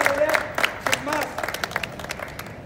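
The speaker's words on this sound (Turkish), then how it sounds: "Bir alkış alalım onlara." A crowd at a hunger strike rally of Wisag workers in Frankfurt breaks into scattered, moderately loud clapping after a voice speaks over a loudspeaker, and the applause thins out toward the end.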